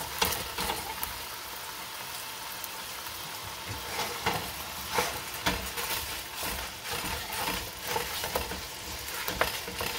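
Rinsed ground beef fries in oil in a pan as it is broken into small pieces, a dense steady sizzle with scattered scrapes and knocks of the utensil throughout, and no voices.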